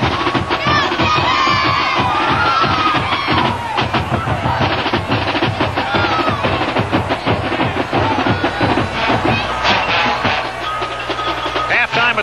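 A capacity stadium crowd at the 1983 Gator Bowl, Florida against Iowa, roars and cheers in a loud, sustained wash of noise while the University of Florida Gator Band entertains.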